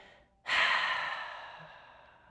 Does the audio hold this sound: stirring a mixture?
no